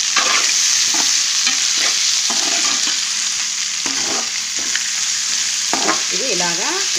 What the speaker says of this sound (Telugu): మటన్ వేసి ఫ్రై చేస్తున్నాను